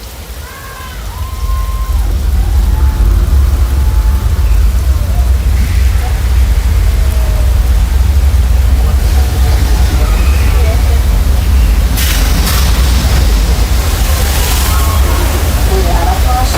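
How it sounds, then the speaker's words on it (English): Heavy artificial rain and flash flood effect at a Universal Studios Hollywood attraction, recycled water released from hilltop tanks, a loud continuous rushing and splashing roar that swells after the first second or two and holds steady, with a brief surge near the end. "can we cut the rain effects if you're back from your break?"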